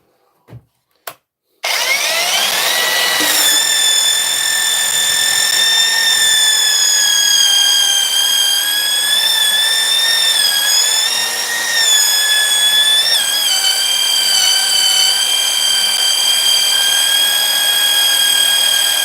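Mellif brushless sander starts after a couple of sharp clicks, then runs continuously with a loud, high-pitched motor whine that wavers slightly in speed throughout, close and alone with no talking.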